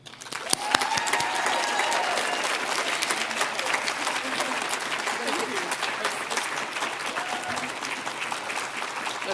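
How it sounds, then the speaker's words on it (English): An audience at the Maine Women's Hall of Fame induction ceremony applauds a new inductee, dense clapping starting abruptly and holding steady for several seconds in a large room. "We're waiting for the applause to subside."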